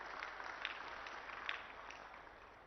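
Applause from a crowd at a public announcement gathering, a faint, steady wash of many hands clapping together with no break across the whole stretch.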